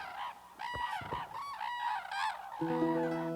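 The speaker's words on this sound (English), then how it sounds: "famous red-crowned crane that used to migrate all over Japan now is confined to this area" Red-crowned cranes call in a snowy Hokkaido winter wetland, with repeated loud, honking bugles in a steady series near the listener, and no talk over them.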